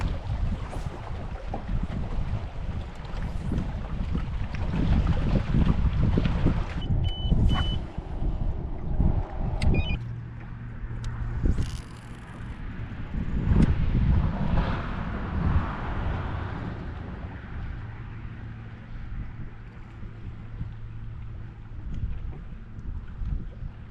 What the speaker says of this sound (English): The wind's blowing now almost directly at us right through the bridge